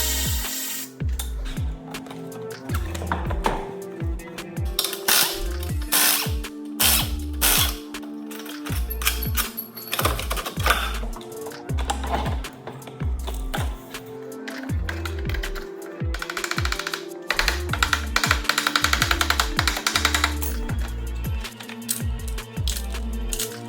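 A ratchet works bolts loose while the right front wiring harness is removed from a Tesla Model 3 during collision repair, with runs of quick clicks and short pauses recurring throughout at close range.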